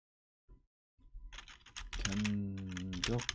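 Keys clack on a computer keyboard as a spreadsheet title is typed in Excel, a couple of isolated taps followed by a quick, steady burst of keystrokes, with a faint tonal hum underneath.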